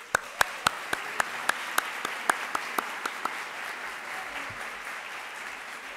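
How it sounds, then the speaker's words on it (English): Audience at a winter college graduation ceremony gives a round of applause. A few distinct claps ring out at first, spaced and fairly clear, then thin and fade into quiet room noise. "they deserve a huge round of applause"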